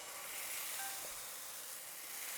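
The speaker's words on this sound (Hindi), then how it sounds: "तो हम इसके ऊपर डालते हैं डोसा का बैटर" Dosa batter poured onto a hot pan, a steady broad hiss of sizzling that holds evenly for a couple of seconds, close but soft, with no talking.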